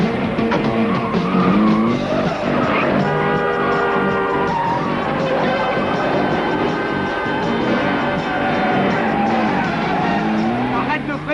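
A speeding car in a chase scene from an action TV series, with loud squealing, skidding tires and a roaring engine that fill the whole stretch, while voices talk over the commotion.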